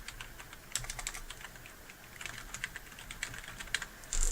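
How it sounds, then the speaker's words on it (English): Keys on a computer keyboard are tapped in short irregular bursts, soft close clicks with brief pauses between them and no talking. "I'm going to type other course information"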